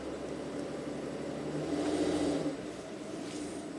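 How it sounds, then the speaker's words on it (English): Ram ProMaster van engine revving up under light throttle with a transmission limp-mode fault, a steady low drone that swells briefly mid-clip and then falls away; a voice speaks briefly near the end. "I'm going to give it a little bit of gas."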